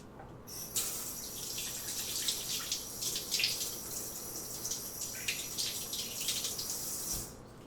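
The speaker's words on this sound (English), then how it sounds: "I'm gonna wash my hands and then we can get started on laying the cookies in the pan" Tap water runs steadily into a sink as hands are washed under it in a kitchen, close and continuous with soft splashing variations, starting abruptly and cutting off near the end, with no talking.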